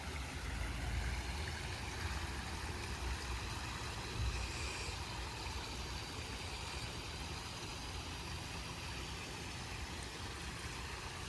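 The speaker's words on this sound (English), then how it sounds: "Got both pumps running." Two variable speed pumps run together at a backyard swim pond, a faint, even mechanical hum and broadband rush that continues unchanged throughout with no breaks.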